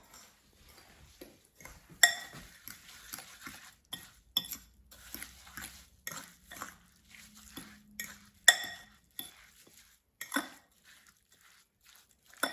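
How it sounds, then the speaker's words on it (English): A spoon stirs a baked oatmeal mixture in a bowl, with irregular clinks and scrapes against the dish and soft swishing between them, close and fairly quiet. "And now I'm going to mix it."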